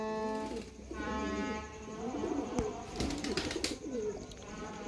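Teddy Golden cross pigeons coo in repeated soft, throaty rolls, close and fairly quiet, the bubbling calls overlapping through the clip with a few sharp clicks and rustles.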